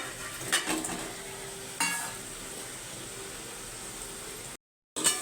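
Tilapia cooking in a pan of onion and tomato curry for a Bengali telapiya macher jhal, giving a steady soft sizzle with a couple of brief stirring clatters. The sound cuts out near the end.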